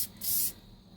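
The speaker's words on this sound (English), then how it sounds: "I'm gonna do some spraying." A spray can or airbrush gives a short hissing burst while painting resin parts, about a third of a second long, close and moderately loud.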